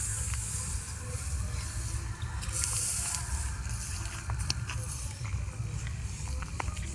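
Water poured a little at a time onto a small open fire for roasting potatoes on a winter night, giving a steady hiss and sizzle with scattered crackles and pops, close by and fairly loud throughout.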